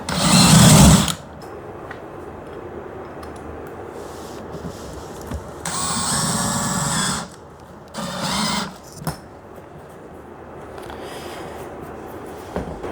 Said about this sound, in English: We'll just put a countersink bit on here.